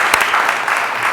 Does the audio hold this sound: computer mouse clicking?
no